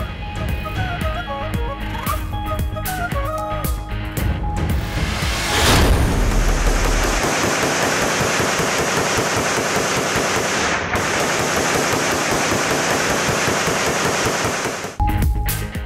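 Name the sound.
celebratory aerial gunfire at election victory rally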